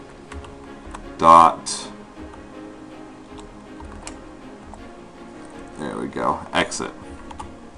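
Clicks of a computer keyboard while code is typed in Visual Studio for a C# program, short bursts of keystrokes with a person speaking intermittently over them.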